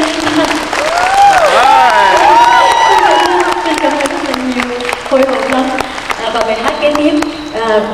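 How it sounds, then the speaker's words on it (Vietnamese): Loud, sustained applause and cheering from a concert audience at a Vietnamese music gala, a dense roar of clapping with whoops and shouts over it, voices chattering throughout. "quý vị vỗ tay thật là lớn một lần nữa"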